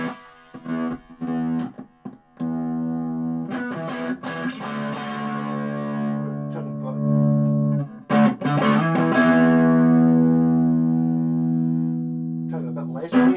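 Electric guitar through a Peavey Rage 158 amp's distortion channel with its small speaker, playing sustained distorted chords and short picked notes with brief pauses, loud and close.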